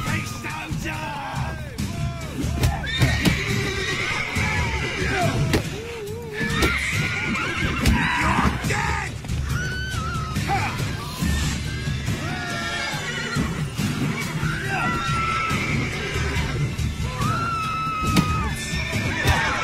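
Witcher 3 video game horse Roach whinnies and snorts repeatedly over hoofbeats and a busy game soundscape of shouts and ambient noise, with several loud neighs spread through the scene.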